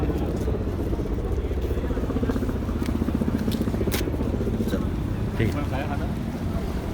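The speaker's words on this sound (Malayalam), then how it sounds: "ഈ ബോട്ടിലാണ് കേട്ടോ നമ്മൾ പോവാം." A boat to Elephanta Island in Mumbai, with a constant engine drone and wind buffeting close to the microphone, while people talk faintly in the background.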